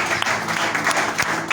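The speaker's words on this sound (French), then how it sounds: "Est-ce que vous acclamez pour lui, vraiment" An audience at a sermon applauds with steady, dense clapping that holds at an even level throughout, with a few sharper individual claps standing out.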